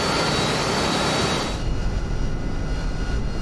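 An F-35B jet taking off in a video game, a loud, broad roar of jet engine that dominates at first, then thins to a deep rumble after about a second and a half, with no speech.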